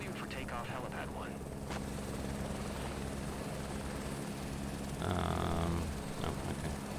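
A helicopter lifting off from a helipad in Microsoft Flight Simulator 2024, a loud continuous rotor thrum and turbine whine that grows heavier and louder as it takes off, with radio chatter faintly over it.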